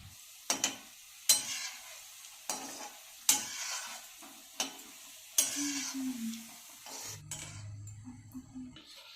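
Cabbage Manchurian fries in a pan on a medium flame, with a faint sizzle under sharp, intermittent clacks of a spoon stirring against the pan.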